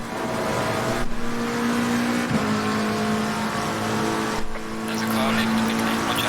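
Race car engine in Assetto Corsa Competizione at Monza, leaving the pit lane: a sustained engine drone with a steady pitch, brief gear-change dips, and a rise in revs near the end.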